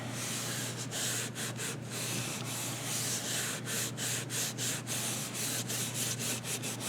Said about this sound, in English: Now I can really burnish this guy.